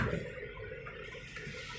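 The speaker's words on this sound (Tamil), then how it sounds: "சின்ன சின்னதாக அருவிங்க கொட்டிக்கிட்டு இருக்கு." Small forest waterfalls pour steadily in a jungle, giving a soft, continuous splashing rush of running water heard close and without voices.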